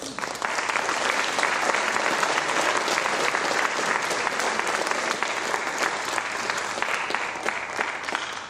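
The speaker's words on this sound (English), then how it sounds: "please give them another huge round of applause" Loud, sustained audience applause rings through a hall at an athletic hall of fame induction ceremony, with a thick, even wash of many hands clapping at once.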